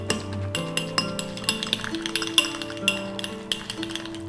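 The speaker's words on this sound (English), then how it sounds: "I'm going to bring that masher back in, and I'm just mashing it all up together" Metal masher tapping and clinking against a bowl while eggs are mashed for egg salad, a steady run of close, bright knocks with a soft mushy scrape underneath and background music throughout.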